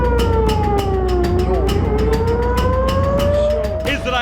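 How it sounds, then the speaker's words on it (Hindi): Air raid sirens wail in northern Israel during a night missile attack, a loud steady tone slowly falling and rising in pitch, with a faint rapid pulsing beneath it. "रात में मिसाइली हमलों के बाद पूरे उत्तरी इजराइल में खतरे के सायरन बज उठे।"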